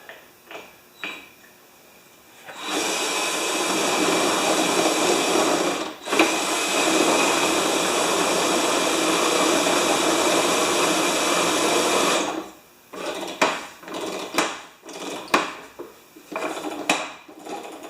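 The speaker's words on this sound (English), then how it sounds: "Let's spin that gear set with a drill now." A power drill spins the gear set of a Toro Recycler lawn mower, whirring steadily for about ten seconds with a short dip midway, framed by clinks and rattles of metal parts being handled.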